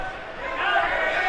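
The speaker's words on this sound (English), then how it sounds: "The crowd getting antsy now" Crowd at a boxing match grows restless, a broad wash of yelling and murmuring voices that swells louder partway through the short stretch, with a few voices standing out above the steady din.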